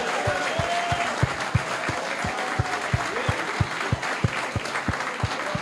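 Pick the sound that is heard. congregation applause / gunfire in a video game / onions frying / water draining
congregation applause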